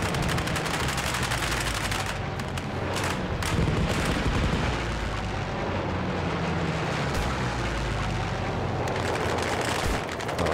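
Heavy gunfire and artillery rage in an Arma 3 battle between NPC factions, a dense, continuous roar of overlapping shots and booms with no pause across the whole stretch.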